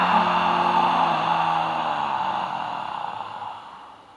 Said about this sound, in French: On peut d'ailleurs expirer par la bouche là